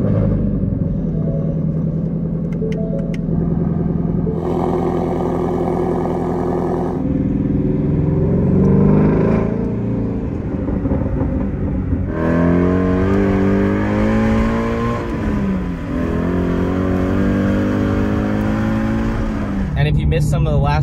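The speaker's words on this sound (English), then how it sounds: "let's go ahead and start the Shelby up and get headed that way" A Mustang Shelby GT350 V8 engine fires up and revs repeatedly, deep rumbling rising and falling in pitch, loud and close, with a voice speaking briefly over it.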